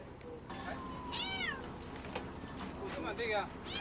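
Cats on Sillido island in Changwon, South Korea meow in several short, fairly close calls spread across a few seconds over a soft background hum.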